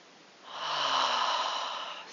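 A deep, slow exhale during yoga, a single long breathy whoosh through nose or throat that swells and fades, close and clear with no talking over it.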